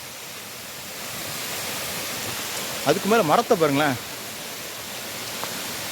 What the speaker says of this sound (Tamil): அருவி எப்படி பாயுது பாருங்க.